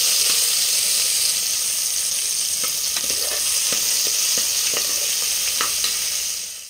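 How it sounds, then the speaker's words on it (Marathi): Vertically sliced onion frying in a pan, a loud continuous hiss of hot oil with scattered clicks from stirring spread throughout, no voices. "उभा असा कापलेला कांदा, हे मस्त परतवून घ्यायचे आपल्याला छानपैकी"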